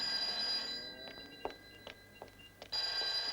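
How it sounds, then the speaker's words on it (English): A telephone bell rings in short bursts, a fairly quiet trill that starts and stops with small clicks in between and no talking. "Get the phone."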